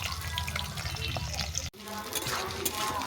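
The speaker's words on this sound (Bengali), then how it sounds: "এগুলোকে আমি ভালো করে ভেজে নেব।" Sliced potatoes and watermelon peel frying in hot oil in a pan, giving a steady close sizzle with a brief dropout partway through.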